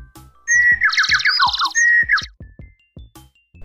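A bird lets out a quick run of bright, high chirps and trills, while soft low thumps tap along underneath.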